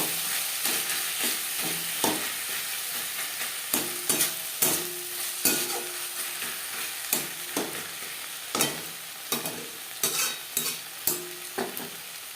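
Onion, tomato, salt and turmeric sizzle steadily in a pan while a spoon stirs them, sharp scraping clacks recurring every second or so over the continuous frying hiss.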